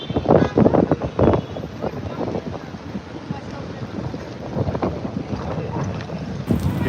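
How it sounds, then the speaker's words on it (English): Gusty wind buffets a handheld microphone outdoors in Paris, producing loud, rumbling low-end bursts that swell and ease over several seconds, with a voice faintly present beneath the roar. "And the wind kicks in."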